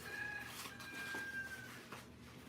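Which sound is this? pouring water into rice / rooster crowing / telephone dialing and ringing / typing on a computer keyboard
rooster crowing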